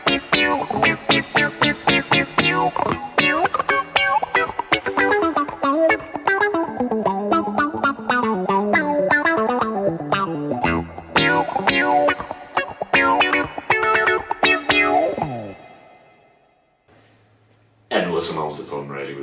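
An electric guitar played through a Boss GT-1000 patch with the overdrive switched off gives rapid, rhythmic picked notes soaked in chorus and echo, stopping near the end before a fresh strummed burst.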